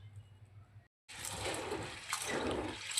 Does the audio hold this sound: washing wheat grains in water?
yes